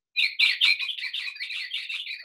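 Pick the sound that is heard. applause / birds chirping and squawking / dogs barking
birds chirping and squawking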